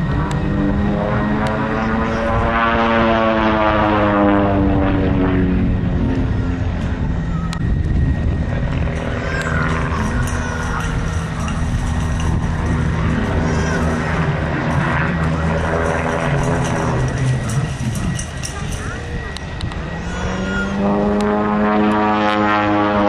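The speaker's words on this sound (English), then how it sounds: "These are our F-111s, very old aircraft." Old F-111 military jets at the Amberley Air Show, a loud continuous roar with rising and falling whine as the aircraft pass and move around, no talking.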